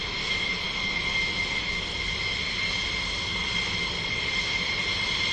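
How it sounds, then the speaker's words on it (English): A USAF Thunderbirds F-16D sits on the ramp at an air show, its jet engine holding a steady, loud whine with a broad rushing roar that runs unbroken throughout as the jet prepares to taxi. "You see the crew chief unchalking the wheels as they get ready to taxi out."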